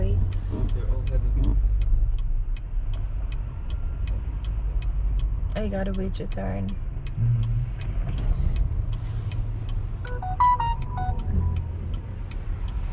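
Car traffic at a downtown Chicago intersection makes a steady low rumble of passing vehicles, with a regular ticking throughout, heard under people chatting nearby.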